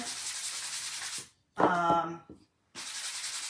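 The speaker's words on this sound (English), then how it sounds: "I am going to just really quickly rough them up a little bit with my sanding block" Two bursts of steady, hissing rubbing of a sanding block over raw wood, broken by a brief gap with a short vocal sound.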